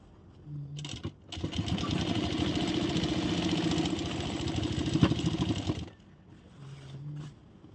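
A sewing machine stitches a half-inch seam on a ladies shirt, running in one steady, close, rapid mechanical whirr for several seconds between brief quiet pauses.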